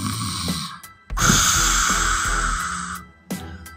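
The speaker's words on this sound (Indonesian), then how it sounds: "lalu tidur dengan mendengkur" A man snores while asleep, in an audiobook sound effect: loud, close snorting inhalations with a brief gap and then another long rasping breath, with no talk.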